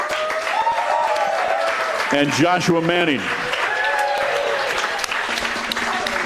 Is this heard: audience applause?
yes